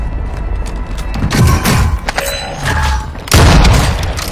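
Booming gunfire in a shooter video game, ending in a sniper headshot; several loud, close reports with heavy low thuds come in bursts around a mid-clip shot and a final strong blast, without speech.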